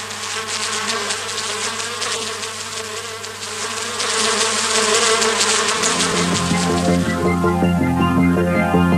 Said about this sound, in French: Cette abeille qui arrive pour la première fois semble hésiter et cherche à comprendre où se trouve le nectar.